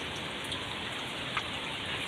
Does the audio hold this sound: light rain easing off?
yes